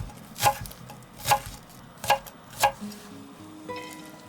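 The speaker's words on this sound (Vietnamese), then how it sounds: "Xắt thêm hành lá ngò rí đi ăn kèm nè." A kitchen knife chops green onion and cilantro on a cutting board in four distinct, evenly spaced strokes, fairly close and alone, with no talking.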